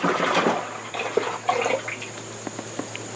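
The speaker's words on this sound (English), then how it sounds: "I'm gonna pour the whole thing in there" A 32-ounce jug of herbicide poured into a 26-gallon sprayer tank holding about 25 gallons of water for a food plot, giving close, uneven splashing and gurgling bursts with no talk.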